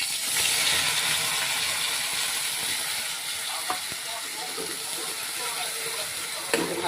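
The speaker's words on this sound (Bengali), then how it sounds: "শুকনো লঙ্কা আর জিরে, এই যে ফোড়নে দিয়ে দিলাম" Dried red chillies and cumin sizzling in hot oil while cooking a vetki fish curry, giving a loud, steady hiss with a few brief crackles.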